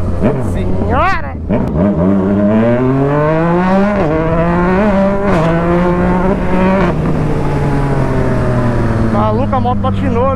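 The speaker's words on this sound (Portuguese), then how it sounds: "Maluca, a moto patinou ali." A Yamaha MT-09 motorcycle fitted with a Jeskap exhaust roars loudly and close as its rear wheel slips, the engine pitch rising and falling in surges before holding a steady drone.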